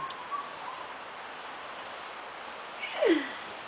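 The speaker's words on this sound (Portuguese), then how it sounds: "Olha o passarinho, Johanna." A small bird gives a single bright chirp near the end, after a long stretch of faint, quiet background.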